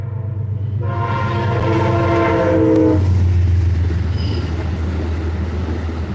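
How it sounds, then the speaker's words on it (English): A train rumbles loudly nearby, its horn blaring for a few seconds before the heavy rolling noise of the cars carries on. "I hate that train."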